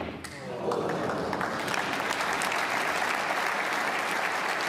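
A snooker crowd at the Northern Ireland Open 2024 quarter-final applauds a total clearance of 135, with loud, dense clapping that swells early and then holds steady and close for several seconds.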